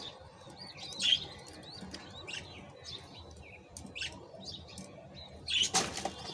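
Pet pigeons at home flutter their wings in a few short flapping bursts amid faint chirps and tweets, close by, with the loudest flurry near the end.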